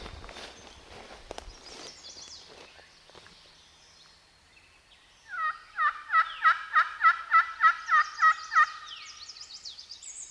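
A wild turkey gobbles in the woods during turkey season, a rapid rattling burst of about a dozen pulses that stands out clearly after a stretch of faint rustling and footsteps.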